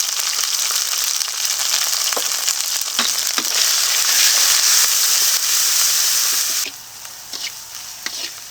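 A spice paste of ground cumin, ginger and chili with dried red chilies, salt and turmeric fries in a pan, giving a loud, steady sizzle with occasional stirring scrapes, then easing to a softer crackle near the end.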